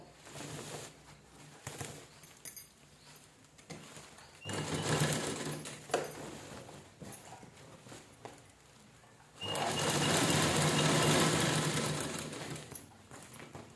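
A sewing machine stitches old sari fabric into a sandal-stand cover in several separate runs, with a short burst near the start, a longer stretch midway and a loud sustained whir toward the end, separated by quieter handling.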